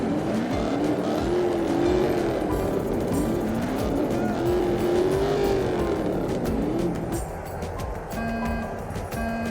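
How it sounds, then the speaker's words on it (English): A sheriff car's engine races through the Cars 2: Fast as Lightning video game, a steady loud motor tone rising and falling in pitch across the whole stretch with tyre squeals mixed in and no talk. "Let's see what this old engine can do."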